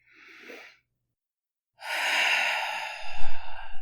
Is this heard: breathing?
yes